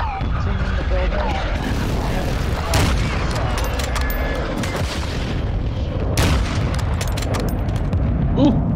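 A rocket blast in Call of Duty Warzone on Ashika Island booms amid rumbling gunfire and explosions, loud and close, with several players talking over the chaos.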